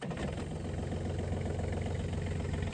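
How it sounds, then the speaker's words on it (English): A John Deere 3320 compact tractor's diesel engine runs at a steady idle after an oil and filter change, with a close, continuous low rumble that holds level throughout. "And then you're going to start the engine up and allow the oil to circulate."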